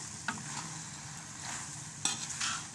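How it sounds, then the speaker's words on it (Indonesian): Fried macaroni, village style with anchovies and no egg, being stirred in a pan, scraping and clinking of the utensil over a soft continuous sizzle, close and fairly quiet, with no talking. "Kacau sampai sekata."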